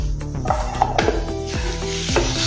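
Raw tomato slices stir through a hot pan of dahi pyaz sabji, sizzling steadily while a utensil scrapes and clinks against the metal in repeated strokes, loud and close.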